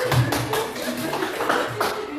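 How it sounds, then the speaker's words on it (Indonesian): A classroom group claps for a student named Putri, a short burst of brisk, close hand claps mixed with faint voices, steady for about two seconds. "tepuk tangan untuk Putri"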